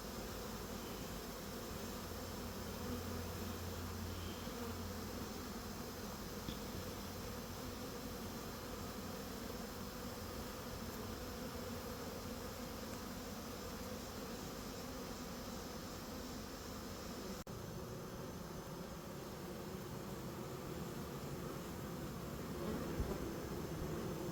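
Honeybees hum around a hive in an apiary with a mesh bottom, a faint, steady, continuous buzz that lasts throughout with no voices.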